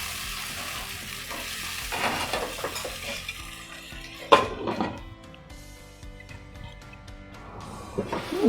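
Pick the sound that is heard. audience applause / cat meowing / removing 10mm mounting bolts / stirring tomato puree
stirring tomato puree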